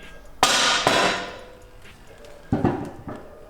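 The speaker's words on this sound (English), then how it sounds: "I'm gonna take my mallet, tap the subframe up where it needs to be." Mallet blows tapping a Lexus IS300 rear subframe into place on a car: two sharp metallic knocks close together, a pause, then two softer taps, all close and loud with ringing decay.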